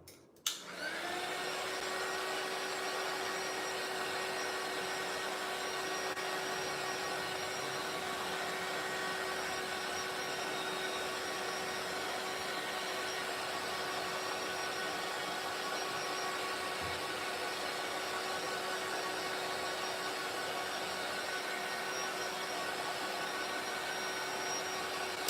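A heat tool blows hot air to dry splattered paint on a mixed media artist trading card. The whirring blower starts abruptly and then holds a loud, even, continuous hum with a faint whine for the full length.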